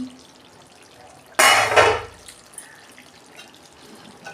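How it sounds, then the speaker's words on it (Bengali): A lid comes off a pot of chicken curry with a sudden loud metallic clatter and hiss lasting about half a second, then the kitchen settles back to faint background noise. "দেখুন বন্ধুরা আমি ঢাকনা খুলছি"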